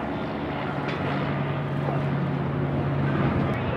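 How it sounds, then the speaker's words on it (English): Steady low roar of wind buffeting a microphone outdoors, broadband and constant throughout, with a low droning hum underneath and no clear speech. "Wind is not cooperating with me today."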